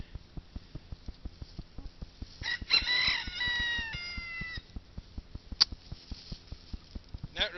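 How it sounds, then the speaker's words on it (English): A white rooster crows once in the middle, fairly close. A steady rhythmic mechanical thumping from the coop runs underneath, with a couple of brief sharp calls later on. "Here's a close-up of the white rooster."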